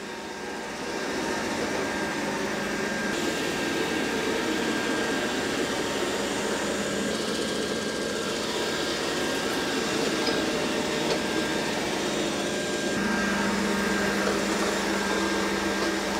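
A Dreametech L10S Ultra robot vacuum cleaning a floor with crumbs, a steady whirring motor drone with a constant tonal whine, running unbroken throughout at moderate loudness.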